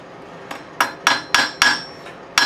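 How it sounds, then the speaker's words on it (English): Hammer blows on metal in a workshop forging flute parts, about six sharp ringing strikes in an uneven rhythm, each with a short metallic decay, close and fairly loud with no talking. "when you're forging, you are getting deformation of the metal, and that metal has to go someplace"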